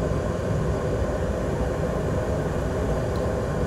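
Engines of a Cessna Citation CJ light business jet at takeoff power on the runway, a steady, loud, broadband roar that holds constant throughout with no voices over it.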